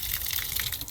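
Water gushes into a bucket as it fills in the Puerto Rico mountains, a brief loud continuous rushing splash.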